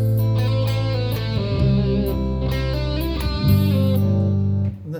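Electric guitar lead phrase from the intro of a song, sustained singing notes played over a full, dense backing track with drums and bass, loud and continuous throughout.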